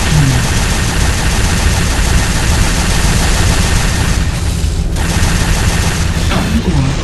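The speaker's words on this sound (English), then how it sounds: "I'm taking heavy fire!" Heavy gunfire in the game Unreal Tournament 3, a dense, continuous barrage of loud rapid shots and booms with no pause throughout.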